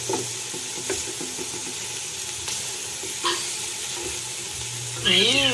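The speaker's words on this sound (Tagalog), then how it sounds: "Lagyan natin ng toyo. Siyempre makikihalo din tayo." Beef pares sizzling in a pan as soy sauce is poured in and stirred, a steady hiss broken by scraping stirs and clinks, with a short wavering sound near the end.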